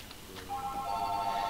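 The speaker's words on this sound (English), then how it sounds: "my phone goes off. Right in the middle of recording" A house phone rings with a steady electronic tone that starts faintly, then grows into a sustained bright warble, heard alone and fairly close.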